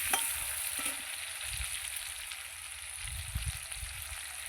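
Potatoes and onions frying in oil in a pan give a continuous close sizzle, with a few soft low knocks from stirring and no voices.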